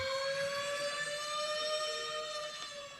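Wailing emergency siren from an ambulance in a 1992 drama film, a steady loud tone with strong harmonics that holds throughout and fades slightly near the end, with no talk over it.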